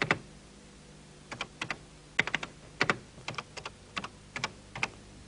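Irregular, close-up keystrokes on a Texas Instruments home computer keyboard, with short bursts of crisp clicks and brief pauses between groups in an otherwise quiet room.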